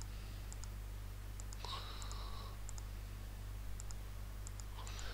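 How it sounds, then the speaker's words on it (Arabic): Soft, light mouse clicks, several scattered across the stretch, from someone working in Rhino 3D design software, heard faintly over a steady low hum with no talking. "نضغط كليك الماوس"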